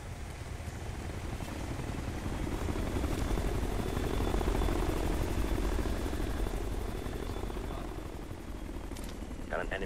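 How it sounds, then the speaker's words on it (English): An enemy helicopter in the shooter game Ghost Recon Future Soldier thrums loudly and steadily overhead, its rotor drone swelling toward the middle and then easing off, with a brief clatter near the end. "Enemy chopper here."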